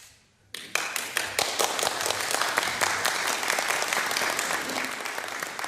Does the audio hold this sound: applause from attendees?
yes